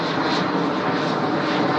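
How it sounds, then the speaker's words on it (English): A Pilatus PC-24 business jet passes high overhead near Sydney Airport, a steady, broad jet roar that stays at an even loudness throughout with no voices. "Oh, there goes our PC-24."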